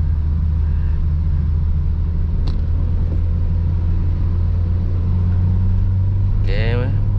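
A car engine running steadily while driving, with a constant low rumble throughout and a brief mechanical whine near the end as the gear is shifted.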